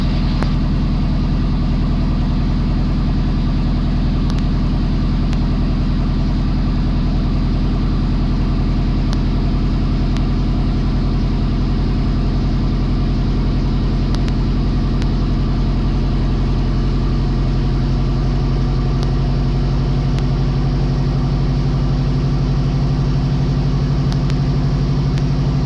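A helicopter engine runs steadily up toward higher RPM during autorotation training, a loud, continuous low droning hum with constant tonal layers that slowly shift pitch across the whole stretch, no talking.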